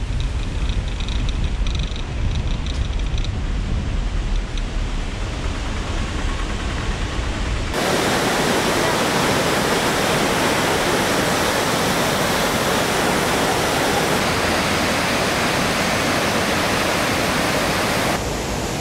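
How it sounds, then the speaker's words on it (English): Ravana Falls, a tall waterfall near Ella in Sri Lanka, roars as a loud, steady broadband wash of falling water, rising to an even fuller rush partway through and continuing without any voices. "this is Ravana Falls. This is the highest waterfall, and it has amazing view."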